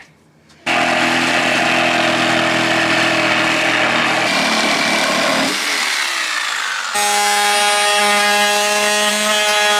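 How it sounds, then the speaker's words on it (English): Power saw cutting through plywood for a Chevy van interior build, a loud close whine with rough grinding texture that shifts pitch as the blade bites, then a higher steady tool whir. "So we cut out plywood"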